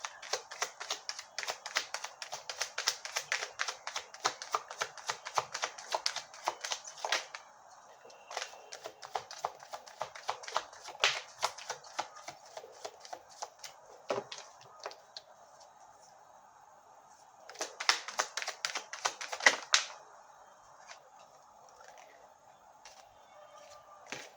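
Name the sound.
tarot cards being shuffled and drawn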